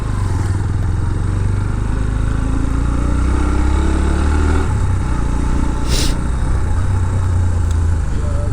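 A BMW G310RR motorcycle's engine runs with a continuous low rumble and revving, close and steady, with no talk over it.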